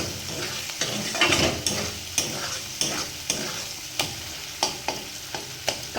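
Catla fish oil frying in a pan with spices, stirred with a utensil that scrapes in regular strokes, roughly one every half second, over a steady close sizzle.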